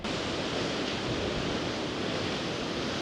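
Choppy sea waves breaking below the Arbroath cliffs: a steady, loud wash of surf with wind noise that roars continuously and evenly for the whole stretch.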